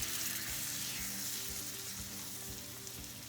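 Cocoa and peanut butter mixture stirred in a pot on a stovetop, a steady soft sizzle with scraping stir strokes repeating close by, no talking.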